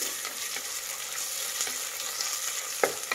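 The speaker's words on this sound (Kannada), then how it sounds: "ಈಗ ಒಂದು ಅರ್ಧ ಟೇಬಲ್ ಸ್ಪೂನ್ ಅಷ್ಟು ಶುಂಠಿ ಬೆಳ್ಳುಳ್ಳಿ ಪೇಸ್ಟ್ ಹಾಕ್ತಾ ಇದ್ದೀನಿ. ಇದು ಹಸಿ ವಾಸನೆ ಹೋಗೋವರೆಗೂ ಫ್ರೈ ಮಾಡಿ." Ginger garlic paste frying with onions in a pan, a steady close sizzle with a few scraping stirs toward the end, and no voices.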